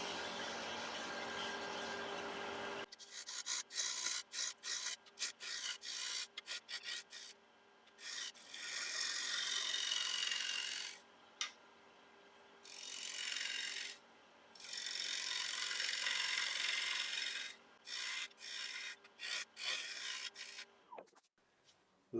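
A 3/8 inch ball gouge cuts a wooden bowl on a lathe turning at 1200 RPM, making loud, close scraping and hissing cuts in repeated bursts separated by short pauses, with no voices.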